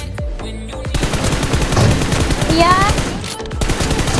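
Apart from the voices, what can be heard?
gunfire in a video game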